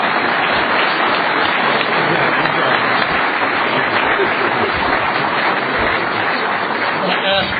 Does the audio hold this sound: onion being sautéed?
no